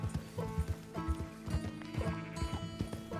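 Horse hooves clip-clop in Red Dead Redemption 2 as a mount moves at a steady, uneven gait, with a whinny-like tone woven through the close, clear footfalls.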